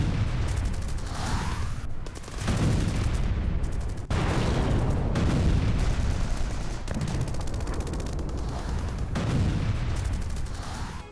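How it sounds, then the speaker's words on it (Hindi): Loud, continuous roaring blasts and crackling booms from an explosion at a burning oil reserve, with several sharp explosive bursts cutting through a dense rumble. "देखिए, ऑयल रिजर्व में विस्फोट।"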